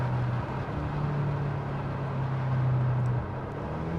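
Engine of a BMW M8 Competition heard from inside the car through an open window, a steady low droning hum under wind and road rush, easing slightly near the end.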